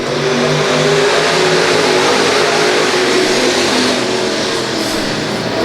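Race cars roar off at the start of a Friday night feature race at LA Raceway, a dense, loud wall of engine noise from many cars accelerating together, sustained and close throughout.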